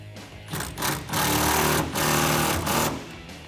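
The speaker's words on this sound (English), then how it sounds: "Now I have a 1/2-inch socket. My impact gun, a ratchet also works." An impact gun fitted with a 1/2-inch socket tightens the clamps of a soft rolling tonneau cover on a 2009-2014 Ford F-150, giving two or three loud, close bursts of buzzing hammering separated by short pauses.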